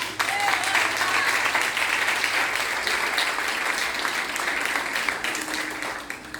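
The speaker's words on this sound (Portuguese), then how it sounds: "Então aplauda o Senhor Jesus." Church congregation applauding together after a call to praise, a steady dense wash of clapping hands that fills the room for several seconds and fades slightly toward the end.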